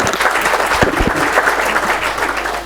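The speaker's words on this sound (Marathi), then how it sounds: "एकदा माधुरीताई आणि त्यांच्या टीमसाठी जोरदार टाळ्या होऊन जाऊया." An audience at a Marathi stage performance event gives steady, energetic applause for Madhuritai and her team, with a couple of sharper individual claps standing out near the start.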